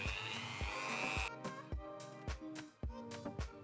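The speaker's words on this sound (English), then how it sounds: "I got my Dremel too to make the hole in the middle a little bit" A Dremel rotary tool grinds out the center hole of a toroidal drone propeller for a DJI Avata, a loud high whine for just over a second, then cuts out into a series of short spaced bursts.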